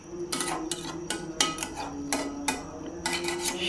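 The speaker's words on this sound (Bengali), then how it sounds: "আগে সবজিটাকে কষাই নিচ্ছি" Vegetables and lentils are sautéed in a pot for Bengali khichuri on a winter night. A metal spoon scrapes and clinks against the pot in irregular strokes over a low, steady hum, fairly quiet and without talk.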